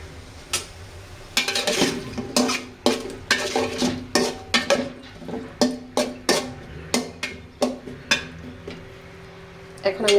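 Potatoes are stirred and scraped in a pan with a utensil, giving a steady series of sharp clanks and scrapes over a low sizzle, close by.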